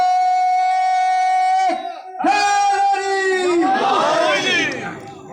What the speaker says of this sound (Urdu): علی حق کے نعرے